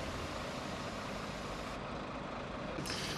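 A stuck truck is freed at a bridge in Heidelberg, with a steady, loud engine rumble and broad noise running throughout and no talk.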